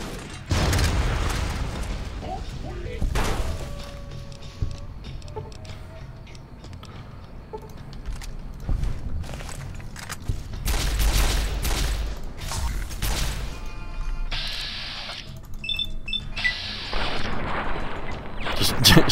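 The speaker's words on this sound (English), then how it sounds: "maybe we could use a plasma grenade since they're all bunched up like this" Combat in Fallout New Vegas brings a plasma grenade explosion among bunched-up enemies, with repeated loud gunshots and booming blasts scattered throughout, while a voice speaks at times between the bursts.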